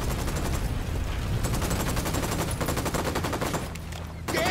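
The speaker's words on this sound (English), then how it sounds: "I'm shooting these fuckers" Rapid automatic gunfire from the video game Ghost Recon, dense sustained bursts of shots running close and loud for several seconds, briefly thinning near the end before resuming.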